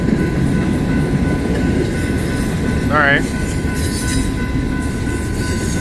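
A BNSF intermodal freight train passing in Colorado Springs, a loud continuous rumble of rolling wagons with a brief wheel squeal, heard close with a person speaking briefly over it.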